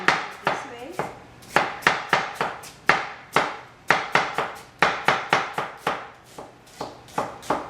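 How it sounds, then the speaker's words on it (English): A knife chops an onion finely on a cutting board, with quick, steady, crisp knocks in an even rhythm, close and clear, with no talking. "So I chop the onion is very small."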